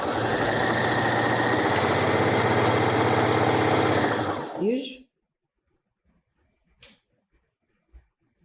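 A sewing machine stitches a hem, running in one loud, steady mechanical whir for about four seconds before slowing and stopping, followed by near silence with a few faint clicks.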